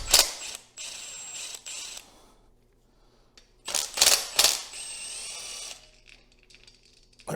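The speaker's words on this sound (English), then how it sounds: "All right, let's go and pull these valve covers." Valve covers are pulled off an Onan engine, with bursts of loud ratcheting and power-driver whirring on the bolts separated by quiet pauses and light metallic clinks nearby.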